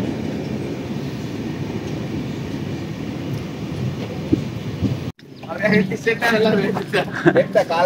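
Loud steady rumble of the Diva Express passenger train running on the rails, then a sudden shift to rattling, clanking noise as it passes close by.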